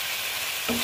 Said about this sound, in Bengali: দিয়ে এটাকে অল্প ভেজে নিচ্ছি।